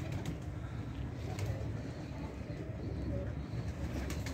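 Pigeons kept on a rooftop coo softly and repeatedly against a steady outdoor background hum, with no clear talking.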